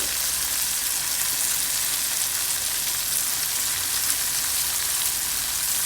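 Small onions sauté in hot coconut oil, giving a steady, loud, close sizzle that runs unbroken with no voices.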